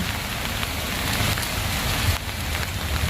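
Torrential morning rain pours down in a dense, loud, continuous hiss of drops hitting surfaces, steady from start to finish.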